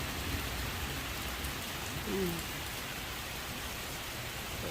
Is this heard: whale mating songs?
no